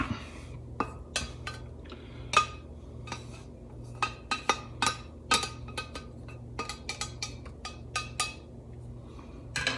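An omelette is worked out of a high-sided steel pan with a utensil, producing a string of sharp metallic clinks and scrapes at irregular intervals over a faint low hum, with no one talking.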